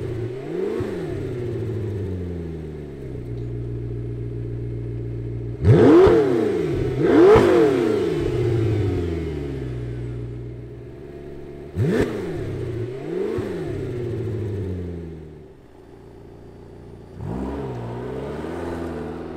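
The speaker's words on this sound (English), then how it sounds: "And it'll even change the exhaust note." A 2020 McLaren GT's exhaust barks through a series of revs from idle, sharp rising blips followed by falling engine tone and crackle. The revs come in pairs and singles with steady idle between them, close and loud, and no talking.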